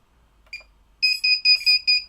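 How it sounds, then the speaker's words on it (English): A drone flight controller's buzzer sounds a short faint chirp, then a run of loud, shrill, evenly repeated beeps close by. "Buzzer."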